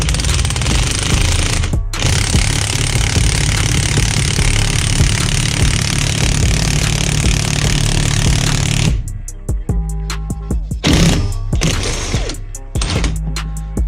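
A wheel bearing is pressed into the hub of a 1991 Honda Civic Wagon with a loud, steady impact tool hammering for about nine seconds, then short rattling bursts with pauses.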